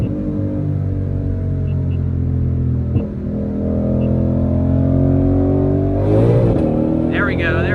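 A stock Ford Shelby GT500 accelerating hard from inside the cabin, a loud droning engine note climbing in pitch, then a quick upshift with a burst of roaring revs.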